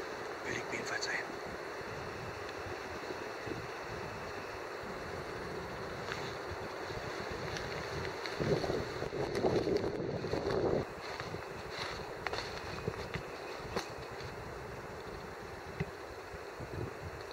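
Steady outdoor wind rushes and buffets the microphone throughout, a constant low roar, near a hunting hide on a wild boar stalk, with brief rustles and faint movement over it.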